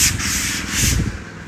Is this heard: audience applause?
no